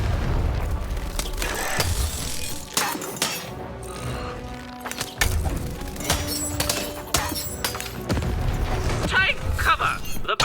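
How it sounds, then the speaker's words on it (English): Cannon fire in the Lost in Random video game, several sharp booming blasts at irregular intervals amid clanking mechanisms and crashing debris, loud and busy throughout. "Shoot the button to fire the cannon."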